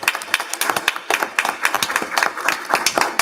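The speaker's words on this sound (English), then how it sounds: "can we give her a round of applause?" A board meeting audience gives a round of applause for a new assistant principal, a steady patter of hand claps from a modest group of people, fairly close and continuous throughout.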